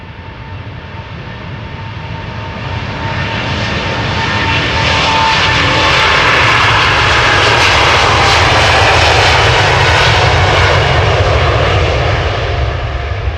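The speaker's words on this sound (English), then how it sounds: "these airplanes are taking off from runway 36 left" A heavy airliner takes off from the Polderbaan runway at Amsterdam Schiphol, its jet engine roar swelling from a distant rumble to a loud, sustained blast before slowly easing, no voices.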